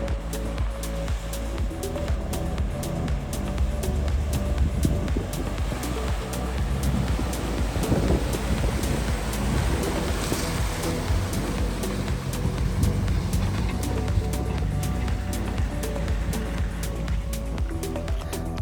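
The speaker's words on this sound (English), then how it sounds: "So I just did the water crossing here." A Land Rover Defender camper drives through a deep water crossing on a Wales road trip, with loud, continuous churning splashes and rushing water over a low engine rumble throughout.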